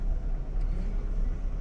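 Busy road with vehicles coming from both directions as transport resumes after a strike, heard as a steady, close low rumble of passing cars and engines with no voices.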